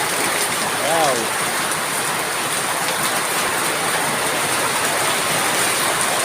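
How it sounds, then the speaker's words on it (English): Steady, dense hiss of sudden rain falling outdoors in the Philippines, continuous and fairly loud throughout, with a brief excited voice rising above it near the start. "It's raining!"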